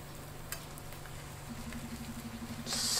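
Zucchini and chicken pancake batter sizzles faintly in a pan over low heat, a soft, steady frying patter with a few light ticks, growing slightly louder toward the end.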